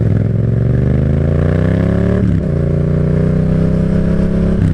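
A Yamaha FZ-07 motorcycle rides through Clemson, its engine note rising steadily under acceleration, briefly dipping at a gear change, then climbing again, loud and close.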